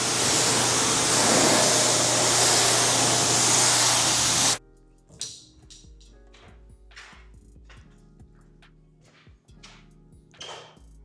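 A loud, steady hiss of water spraying onto a car to rinse off acid soap shampoo runs for about four and a half seconds, then cuts off abruptly, leaving scattered drips and light knocks.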